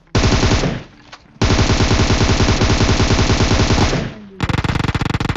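Rapid automatic gunfire from a battle royale video game, fired from a prone position, long sustained bursts with a brief pause, then a sharper, choppier burst near the end.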